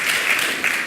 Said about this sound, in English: Big applause to Mr.